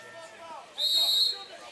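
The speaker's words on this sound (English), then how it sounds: "So a lot of whistles here in short succession here." A referee's whistle at a men's college water polo match between Pacific and Long Beach State sounds one sustained, shrill blast, loud and near, over a murmuring crowd and indoor pool ambience.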